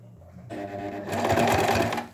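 A sewing machine runs a short burst of topstitching along the edge of a cuff, close to the seam, starting after a brief pause and speeding into a steady, close, moderately loud whir.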